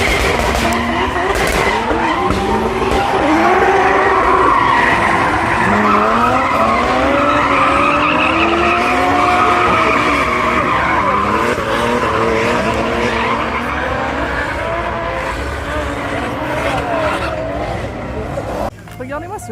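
Drift cars at a drift festival in France slide with loud, sustained tire squeal and revving engines, continuous and fairly close, with voices and crowd noise mixed underneath.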